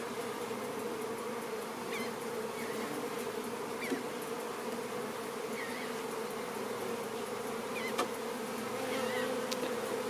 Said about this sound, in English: we have a lot of bees around us right now